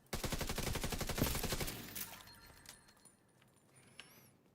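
Mortar fire in a video game arrives as a rapid burst of sharp reports that fades into a softer, ringing tail, followed by a quiet stretch with a few faint clicks.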